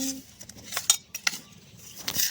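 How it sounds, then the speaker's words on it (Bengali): A spoon clinks and scrapes against a container while chaat masala is mixed into homemade pickle, with a few sharp metallic taps standing out among softer stirring sounds, close and fairly quiet. "এরপরে দিয়ে দিচ্ছি চাট মশলাটা, মিশিয়ে নিচ্ছি।"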